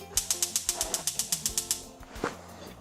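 A kitchen stove knob is turned up to high heat. It gives a rapid, even run of about a dozen close ratcheting clicks, then one final click.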